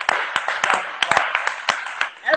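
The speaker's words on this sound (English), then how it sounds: "A round of applause, ladies and gentlemen." A small live audience claps in a brief round of applause during an online radio show, the sharp irregular claps fairly close and scattered rather than thunderous, with some voices mixed in.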